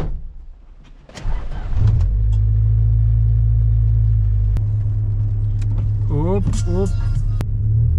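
A Honda Civic Coupe EJ6 starting and driving in the rain, a loud steady low engine rumble that runs through the clip after a short quiet start, with brief talk near the end.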